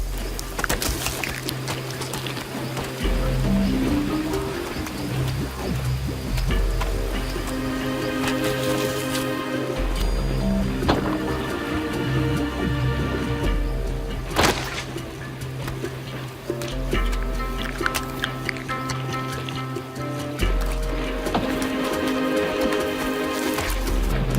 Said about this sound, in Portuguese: são só as torrentes de água que caem do céu.